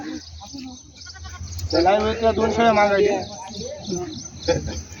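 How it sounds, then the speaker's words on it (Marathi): Goats bleating at the Tuesday goat market in Hingoli district, several overlapping wavering bleats near the microphone over a crowd murmur. "गावराणी उस्मानाबादी बिठ्ठल काटेवाड्या संपूर्ण जातीच्या शेळ्या तुम्हाला या बाजारामध्ये पाहायला भेटणार आहेत"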